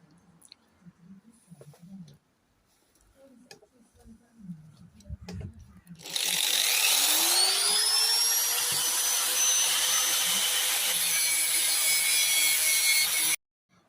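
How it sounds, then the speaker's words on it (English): An angle grinder bites into a metal exhaust part, a flange fitting inside the pipe, with a loud, steady high-pitched whine that runs for about seven seconds after quieter shop handling noises. "So I wonder if I grind that carefully, I can get that off."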